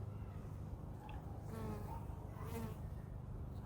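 Honeybees buzz faintly around an open hive during an inspection, with individual bees droning past in soft, wavering hums over a low background rumble.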